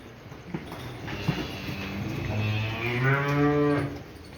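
Calves offered for sale at a Punjabi farm moo once in a long, loud, drawn-out call that rises and falls, preceded by a few soft knocks and shuffles nearby, with no talking.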